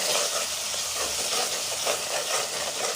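Masala fries in a pan and is stirred around, giving a continuous soft sizzle with gentle scraping swells. It runs fairly quietly with no talking.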